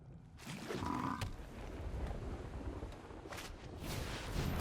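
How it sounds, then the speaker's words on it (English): Wet, squishy croaking from a frog creature card in the online card game MTG Arena, a dense gurgling texture lasting several seconds at steady loudness with no talk over it. "Our frog is making squishy noises."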